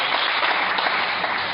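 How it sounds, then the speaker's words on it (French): A church congregation applauding in praise of the Lord, dense continuous clapping from many hands, loud and steady throughout, with no voices over it. "Est-ce qu'on peut acclamer le Seigneur?"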